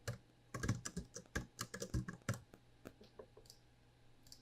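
Fingers type a password on a computer keyboard, giving a quick run of crisp key clicks with short pauses that slow to a few scattered taps, close and fairly quiet.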